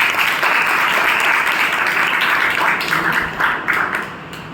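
Sustained audience applause at a club leadership meeting, a dense steady wash of many hands clapping, fairly loud and close, thinning slightly toward the end.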